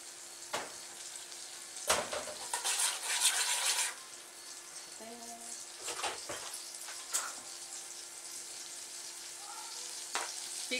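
Margarine and olive oil sizzle steadily in a pan, a soft close hiss broken by a few louder crackling bursts and scraping stirs early on before settling into a quieter fry.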